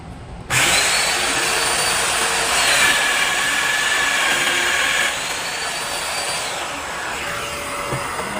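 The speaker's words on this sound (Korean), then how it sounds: "뚫어주시면 이렇게 구멍이 뚫리게 되고요." A power drill whines loud and continuous for about eight seconds as it bores a hole through wood held on scrap boards, with a slight change in pitch partway through and no speech.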